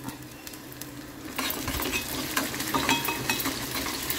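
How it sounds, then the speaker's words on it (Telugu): Onions sizzling in a pan for a curry, stirred with a utensil that scrapes and clinks against the metal, growing louder after the first second and holding a busy, close frying hiss. "ఉల్లిగడ్డ ఇట్లా కొంచెం బ్రౌన్ వస్తే మంచి టేస్ట్ ఉంటుంది కర్రీ, అందుకని వచ్చేటట్టు చేస్తాం."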